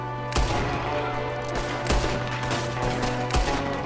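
Several sharp gunshots in Red Dead Redemption 2, spaced irregularly over a steady mechanical hum and background din, loud and near.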